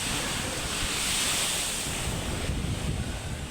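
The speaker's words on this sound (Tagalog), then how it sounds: "Napakalakas ng alon." Strong sea waves surge during high tide, a broad continuous roar of surf mixed with gusty wind buffeting the microphone, with no talking.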